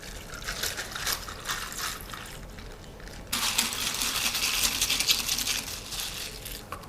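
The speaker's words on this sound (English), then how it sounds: "Pour the mixture over." An instant-coffee mocha mixture is poured over ice in a glass, a close, steady liquid splash and trickle that thins briefly and then returns at full strength for a longer pour.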